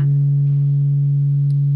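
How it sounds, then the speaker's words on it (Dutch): A tone generator produces a low, pure sine tone that holds perfectly steady and loud for the whole stretch, with no voices or other sounds alongside it. "Zo klinkt een sinusgolf."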